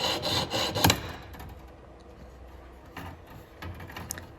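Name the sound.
jeweler's saw cutting metal for a hair fork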